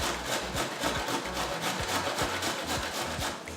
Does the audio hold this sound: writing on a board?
no